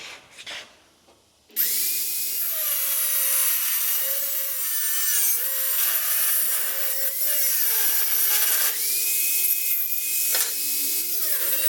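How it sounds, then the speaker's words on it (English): A power drill bores holes through clamped steel angle iron, starting after a short quiet moment with a loud, steady grinding whine that wavers in pitch and briefly eases before resuming. "So I'm going to drill these holes, clamp it up in there."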